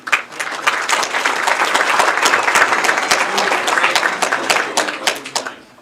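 A room full of guests at the 2024 Ashtabula Touchdown Club football banquet and Hall of Fame induction bursts into loud, sustained applause, dense close clapping that holds steady for several seconds before thinning out.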